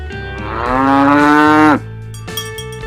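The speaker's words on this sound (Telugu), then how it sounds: "ఆవు." A cow gives a single loud, close moo lasting just over a second, rising and then cutting off sharply, followed by quieter farmyard background.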